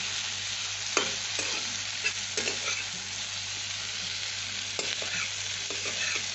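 Bitter gourd and potato, seasoned with turmeric, stir-fry in a pan with a continuous close sizzle punctuated by occasional spatula scrapes and knocks.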